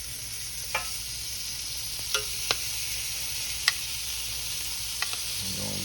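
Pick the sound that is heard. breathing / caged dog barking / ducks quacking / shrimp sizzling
shrimp sizzling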